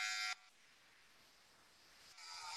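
Electric hair clippers shaving a head give off a thin, high buzz that cuts out after a moment and starts up again near the end, quiet against a near-silent background.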